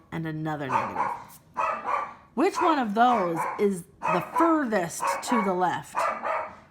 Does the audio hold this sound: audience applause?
no